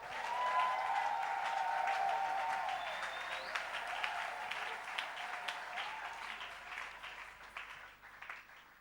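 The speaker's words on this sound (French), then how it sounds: "Acclamons-les." A church congregation applauds, sustained clapping filling the room, loud at first and slowly thinning, with a few whoops or voices rising over it.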